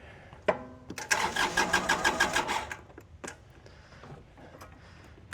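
A diesel engine with glow plugs, long unused, cranks on a portable jump starter: a rapid, even starter chatter for about two seconds, then a rough catch and uneven running that fades to quiet clicks and faint talk.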